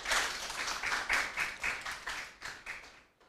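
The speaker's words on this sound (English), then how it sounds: "Put your hands together for you." A small audience at a reading competition media launch claps in brief irregular bursts of applause, moderately close and fading toward the end.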